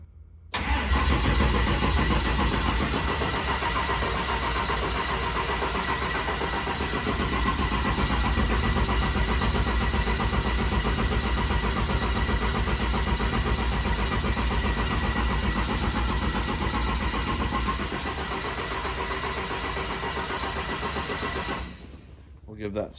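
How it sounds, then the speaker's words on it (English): An engine being cranked over on its starter to build oil pressure, a loud, continuous grinding drone close up that holds steady for about twenty seconds before cutting off abruptly. "So now we'll just crank this thing until we get oil pressure."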